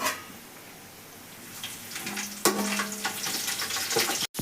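Onions fry in hot oil for chicken biryani masala with a steady, close sizzle that swells midway, joined by a sharp clatter and brief stirring.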